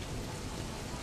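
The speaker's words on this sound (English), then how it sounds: "it's starting to rain again" Rain falls steadily in the video game Beesmas, a soft, even hiss of many drops at moderate volume, without voices.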